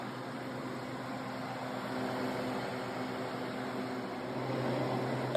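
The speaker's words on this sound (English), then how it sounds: "This is no oil vacuum pump." An oil-free vacuum pump runs on a home freeze dryer holding bread, giving off a steady broadband whir with a low hum that holds constant throughout, close by and with no talk.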